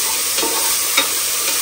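Onions, green chillies and ginger-garlic paste sautéing in a pan for veg biryani, a steady close sizzle with a few soft scrapes of the spoon stirring through.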